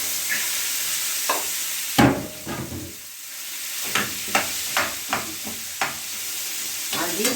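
Liver frying in a pan with toasted spices, giving a continuous close sizzle punctuated by sharp, regular stirring scrapes and clacks, with a short dip in the hiss partway through.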